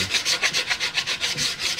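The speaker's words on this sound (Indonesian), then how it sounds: "Proses selanjutnya kita bisa melakukan pengamplasan." Coarse 60-grit sandpaper rubbed by hand over a wood filler patch on a simple minimalist wooden shelf, steady back-and-forth rasping strokes at a quick even rhythm, close and loud.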